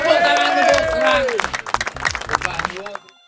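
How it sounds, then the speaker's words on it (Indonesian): Crowd at a seaside fishing festival on a beach in Blitar claps and cheers, mixed with voices and an announcer, the clapping breaking into scattered bursts before fading. "Tepuk tangan untuk Serang."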